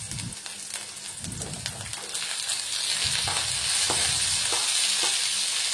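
Tomatoes fry in a pan with a steady hissing sizzle that grows louder and denser partway through, with soft stirring scrapes and bumps near the start.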